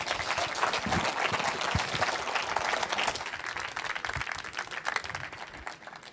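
Sustained audience applause at a technology lecture event, dense clapping from a large crowd that stays steady and fairly loud throughout, thinning slightly toward the end.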